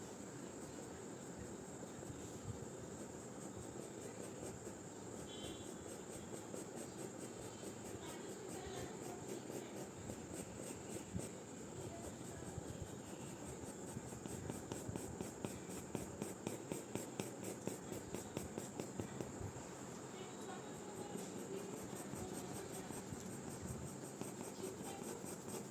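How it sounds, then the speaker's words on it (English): A 4B graphite pencil shades darker areas of a sketch on paper, giving a steady, close scratchy rasp of repeated strokes that grows a little more rhythmic midway, with no voices. "Now we'll use the 4B pencil to show slightly more darker"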